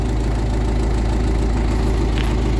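A KIY 14102 engine idles steadily at close range, giving a loud, even, low throbbing rumble with a slight knocking texture.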